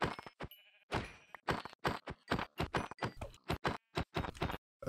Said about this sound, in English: I do actually need to kill these sheep